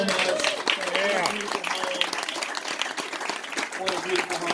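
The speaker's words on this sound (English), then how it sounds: "How about a round of applause for the Moser family?" Scattered clapping from a small gathering honours the Moser family inside their home. The applause is moderately loud and runs under and between several people speaking.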